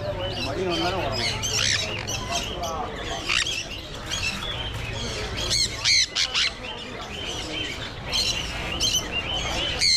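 Many caged birds at Chennai's Broadway pet market chirp, tweet and squawk all at once, a dense, loud, overlapping chorus with harsh calls breaking through. People talk underneath.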